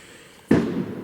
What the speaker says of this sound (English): There are some idiots outside lighting up fireworks